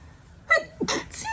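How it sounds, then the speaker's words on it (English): A single sneeze with a sharp gasping intake and then a loud, breathy burst, close to the microphone and otherwise quiet. "I'm gonna sneeze."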